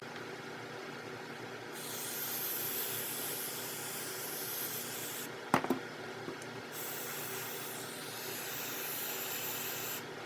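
Aerosol cleaner hisses steadily into a disassembled motorcycle carburetor body, a long close spray broken briefly midway by a short clatter and a pause before the spraying resumes.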